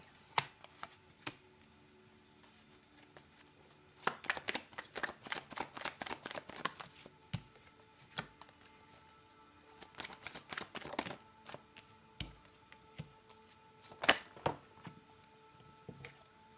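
Tarot cards are shuffled in quiet bursts of soft riffling and flicking, with a few cards dropping out, close and faint with pauses between rounds.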